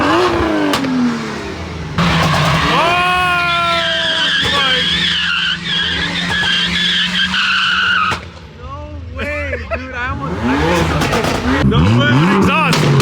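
A BMW M car at a pop-up car meet revs hard and squeals its tires, engine pitch rising and falling in loud surges with a brief dip midway, while people talk and shout nearby.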